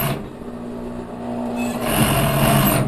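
A sewing machine runs steadily as it stitches lining onto ribbed knit fabric, a close, continuous mechanical whir that rises a little in speed partway through.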